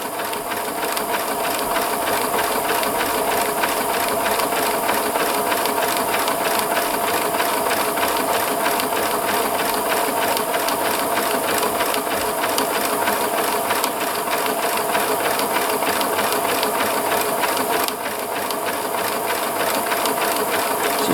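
A Pfaff Classic Style sewing machine stitches a buttonhole with its buttonhole foot, a loud, close, continuous mechanical whir with fast even needle ticking that runs steadily for about twenty seconds, pausing only briefly near the end.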